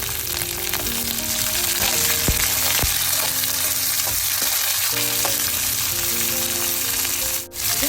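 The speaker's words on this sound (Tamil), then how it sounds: "கொஞ்ச நேரம் நல்லா பொரியட்டும் வெங்காயம்" Shallots and a few green chilies frying steadily in oil in a pan for a Tamil brinjal curry, a continuous close sizzle with occasional stirring scrapes and clinks, and a brief dip near the end.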